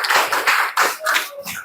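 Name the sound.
applause for a student in a classroom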